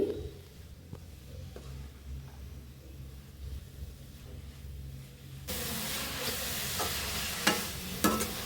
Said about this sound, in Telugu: ఈ డ్రై ఫ్రూట్స్ బాగా కలిసేంత వరకు కలుపుకోవాలండి